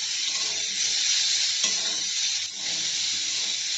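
Potato, pumpkin and onion fry in a pan with a dense, even hiss of hot oil that holds close and loud throughout, with faint stirring underneath.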